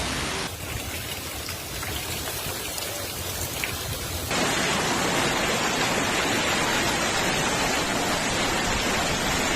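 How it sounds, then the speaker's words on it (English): Heavy rain and hail pour down in a dense, steady roar that grows louder partway through, with no voices. "an avalanche of water and hail for 10 minutes"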